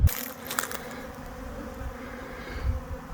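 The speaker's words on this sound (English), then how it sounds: "The bees have found the community feeders." Honeybees swarm around community feeders, filling the air with a steady, dense buzz that stays close and continuous throughout with no voices.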